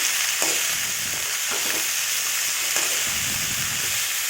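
Tender jackfruit pieces sauté in coconut oil in a pan, a continuous close sizzle broken by scraping stirs roughly every second.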